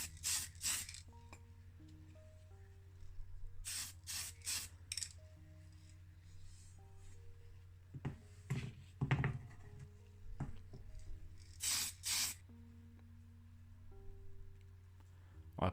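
Fine surface primer is sprayed from an aerosol can onto a die-cast Matchbox Lincoln Continental MkV model car in several short hissing bursts, fairly close, over a low steady background hum.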